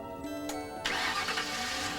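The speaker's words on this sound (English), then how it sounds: "natural gas vehicles start up easier than their gasoline counterparts in all kinds of weather" A natural gas vehicle's engine cranks briefly and catches, settling into a steady mid-pitched idle, fairly faint and close, with no voices.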